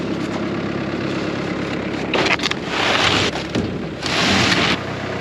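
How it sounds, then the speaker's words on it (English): Steady rain falls on a farm after silage harvest, a loud continuous hiss with gusty swells of heavier downpour or wind buffeting the microphone, and no talking. "It never stops raining, and it rains and it rains and it rains."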